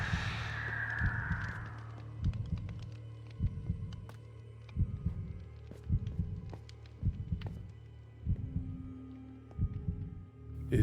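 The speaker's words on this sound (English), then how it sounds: "But that heartbeat is not good" Warning heartbeat in the Minecraft Decked Out 2 dungeon, a steady double-thump pulse repeating about once per second, low and prominent throughout, with a few scattered game sounds over it and no talk.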